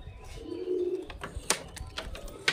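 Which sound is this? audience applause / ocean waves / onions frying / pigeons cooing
pigeons cooing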